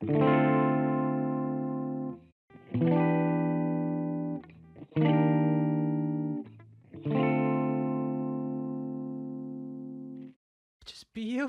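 Four sustained electric keyboard chords from a Persona 5 Royal piece, each held about two seconds with brief gaps between, warm and clear, with a short noisy burst at the end.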